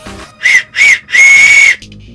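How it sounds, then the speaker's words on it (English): A Paw Patrol toy whistle, worn on a neck cord, gives two short shrill toots and then one long sustained blast, loud and close, with no talking over it. "let's listen to the whistle"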